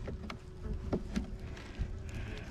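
Honey bees drone and buzz at an open hive during an inspection, a dense close hum with faint clicks and bumps of handling, with no talking.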